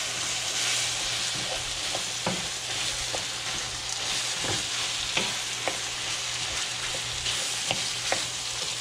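Pork with onions and shallots fries steadily in a pan, a close, continuous sizzle broken by occasional soft clicks and stirring taps, with no voices.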